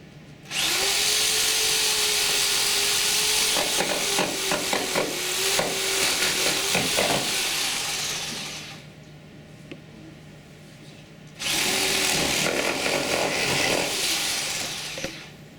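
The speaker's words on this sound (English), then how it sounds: "Drake will also cut off the foreshank." A band saw or power cutter cuts the foreshank off a pork carcass in a meat-cutting demonstration, a loud steady whine running for about eight seconds, a pause, then a second burst of cutting.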